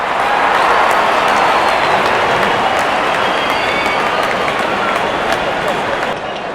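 A cricket crowd at a T10 match between Pakistan and India applauds a batter's half-century, a loud, sustained roar of clapping and cheers as a commentator talks over it.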